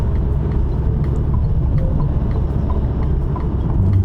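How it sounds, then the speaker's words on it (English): Tyre road noise heard inside a 2024 Alfa Romeo Tonale plug-in hybrid cruising on a highway: a steady, loud low rumble and roar that continues without a break, with no talking. "You can hear on the highway there is a little bit of road noise from the tyres"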